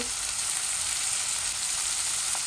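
Tomato added to a hot frying pan while cooking tomato bhorta, a steady bright sizzle and crackle of frying with a faint stir, continuous and close.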